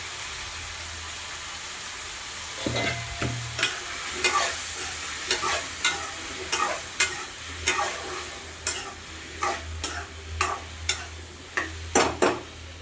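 Chopped brinjal sautés in a pan with onion and tomato, a soft steady sizzle under a spatula scraping and stirring in quick, regular strokes against the metal.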